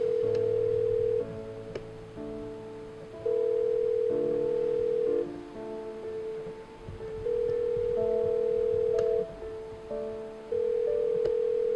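A telephone rings on and off without being answered, steady electronic tones repeating in long bursts with gaps across the clip, fairly close and clear, no voices.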